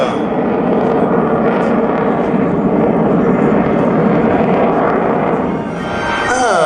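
An Alpha Jet flying at an Avignon air show makes a loud, continuous jet roar that stays strong throughout, with a brief dip near the end, as a voice talks over it.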